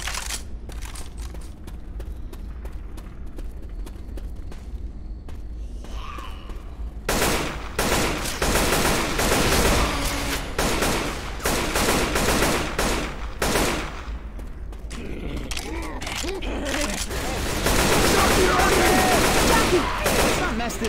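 Gunfire in Left 4 Dead 2 on the Cold Stream campaign, Cut Throat Creek: sustained bursts of rapid shooting, loud and close, with quieter stretches between volleys and players talking underneath.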